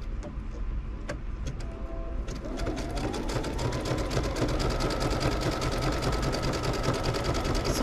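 A sewing machine runs steadily while stitching a seam on a June Tailor shopping tote, a loud, close whirring motor with fast regular needle clatter after a few brief starts.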